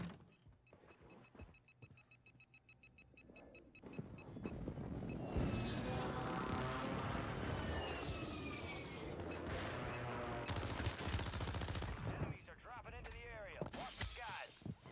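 Renetti pistol shots in Call of Duty Warzone Rebirth, a run of sharp reports inside dense, loud battle noise with explosions and rumble, mostly steady throughout.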